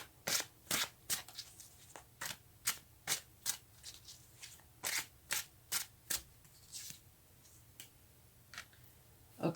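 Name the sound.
shuffling tarot cards to draw another card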